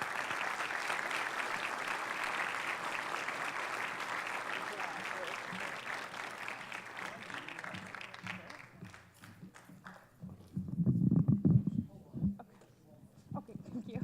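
An audience at a Burlington Democratic Party caucus claps in a steady sustained round of applause that gradually thins out, and a voice begins speaking as it fades.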